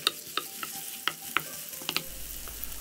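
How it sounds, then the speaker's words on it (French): Garlic sizzles in hot oil in a pan with soft crackles and pops over a low frying hiss, fairly quiet and close, with no talking. "On y dépose l'huile, puis l'ail, et on va faire revenir l'ail"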